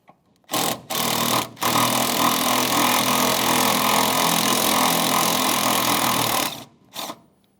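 A power tool, likely an impact wrench, spins off the second brake master cylinder mounting nut on a 2008-2017 Mitsubishi Lancer, with one steady loud run of about six seconds between short bursts at the start and end.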